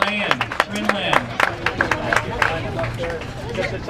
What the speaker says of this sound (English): How about a big round of applause for these individuals?